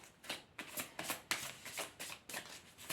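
Tarot cards being shuffled for a reading, a soft riffling in quick repeated bursts, close and quiet with no one talking.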